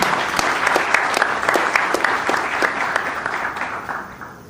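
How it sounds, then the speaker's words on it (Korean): An audience at a press conference applauds to welcome a Seoul medical school immunology professor, a dense steady burst of many hands clapping that holds for several seconds and then fades. "큰 박수로 맞이해 주십시오"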